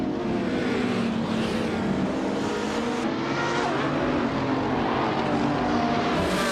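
Supercars, led by a 2015 Ferrari LaFerrari, racing on the reverse layout of the Seattle Circuit in a video game: a dense, steady roar of several engines howling together, loud and continuous with no talking.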